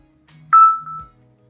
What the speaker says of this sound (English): I apologize for the phone noise